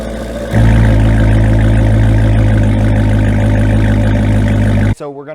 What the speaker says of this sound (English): You'll first hear it with the valves closed in the exhaust, and then you will hear it with the valves open